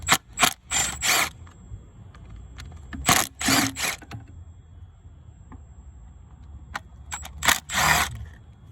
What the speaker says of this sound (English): But let's take the screws out.